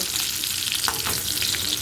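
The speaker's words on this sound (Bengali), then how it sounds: "পটলগুলো দু পিঠ বেশ ভালোভাবে ভাজা হয়ে গেছে" Pointed gourd pieces frying in hot oil in a pan, a dense, steady sizzle with crackling pops throughout, close and loud with no voices.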